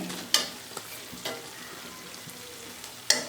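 A methi pak mixture of fenugreek, jaggery and dry fruits is stirred in a pan, giving a faint low sizzle with a few sharp scraping clicks from the spoon. No one speaks.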